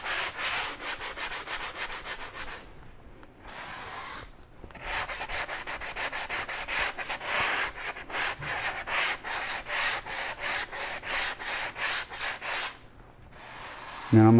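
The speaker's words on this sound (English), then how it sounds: "Just real lightly sand that off." Hand sanding a drywall patch repair, a steady rhythmic scraping of abrasive strokes repeated back and forth for several seconds, close and alone, with brief pauses between runs of strokes.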